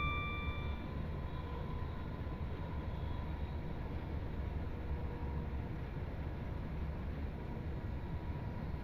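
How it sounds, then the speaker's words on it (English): Inside a Pendolino train in the Train Sim World 6 game, a steady rumbling cabin drone with low rolling noise runs unbroken, faint and even, with a few brief tonal beeps near the start and no talk. "This has got the AP sound mod on it as well, this Pendolino. But it sounds pretty good on the inside."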